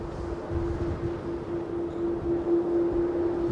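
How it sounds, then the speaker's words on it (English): The CF6 jet engines of an Iberia airliner keep up a steady whine with a fixed tonal hum over broad engine roar at an airport. The sound is continuous and fairly loud, with no talking. "You can hear those CF6s singing away on that Iberia jet."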